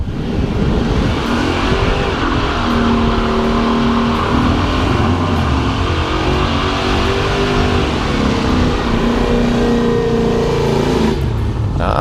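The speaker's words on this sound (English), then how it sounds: "Here's Greg in the wagon doing some hood rat stuff." A 1964 Chevy II wagon with an LT1 engine revs hard and accelerates, its loud, steady engine roar filling the whole stretch with rising and falling pitch before easing off near the end.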